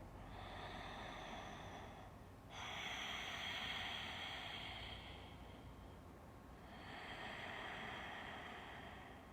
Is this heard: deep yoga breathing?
yes